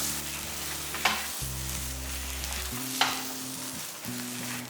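Ashoka halwa mixture sautéing in ghee in a pan, a dense, even sizzle running throughout with a couple of sharp stirring knocks, close and alone without speech.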